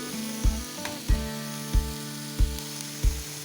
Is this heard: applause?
no